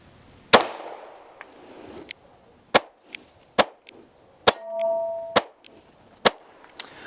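Girsan 2311 Match 9mm pistol fired at 15 yards on an outdoor range, about nine sharp, loud single shots spaced irregularly, with a brief ringing tone between two of them.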